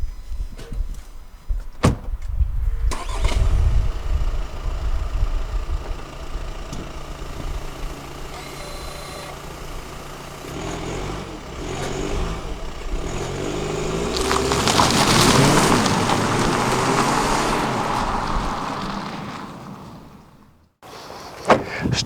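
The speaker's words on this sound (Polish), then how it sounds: "dodam gazu. Przy okazji zobaczymy, jak ten samochód startuje na 4 łapy." A 2014 VW Passat B8 2.0 TDI 240 hp 4motion with DSG launches hard from a standstill, its diesel engine rising to a roaring drive-past before fading, with clicks and a door-like thud near the start.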